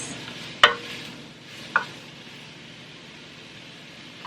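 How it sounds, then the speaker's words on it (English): Mushrooms sauté in a pan under a soft steady sizzle, with two sharp clacks of a utensil against the pan and another knock at the very end. "The mushrooms go in, every single piece. Just give it a good mix."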